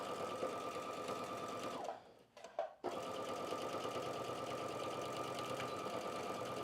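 A sewing machine stitching a shoulder seam on a top, a steady close mechanical whir that stops briefly with a few clicks near the middle, then resumes running continuously.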